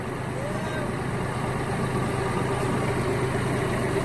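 A tractor engine idling on a farm in Israel, a steady low rumble throughout with people talking over it.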